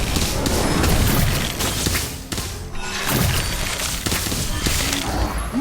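The Incendio fire spell bursts in the Harry Potter Magic Awakened video game: loud, dense crackling blasts and shattering crashes in quick succession, dipping briefly twice before surging again.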